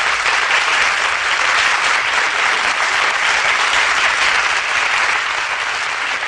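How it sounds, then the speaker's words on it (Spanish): Loud, sustained applause from a studio audience on a Spanish-language cinema show, welcoming a guest. Dense, even clapping fills the whole stretch without a break and with no voices on top. "Un aplauso enorme a Jesús Casas de Mundo"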